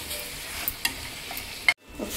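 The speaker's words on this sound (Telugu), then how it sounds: "ఒక 2 నిమిషాలు ఇలా కలబెట్టేసుకొని మూత పెట్టేస్తున్నాను" Tomato and onion gravy for chicken curry frying and being stirred in a pan, a steady sizzle with scraping spoon strokes and a few sharper clinks before the noise cuts off abruptly.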